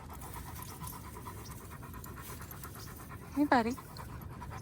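Dogs panting during a daily pack walk with a dog walker, steady breathy panting close by with a brief whimpery vocal burst near the end, under a man's greetings and chatter.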